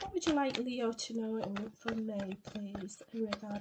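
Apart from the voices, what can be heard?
No everyday noises stand out.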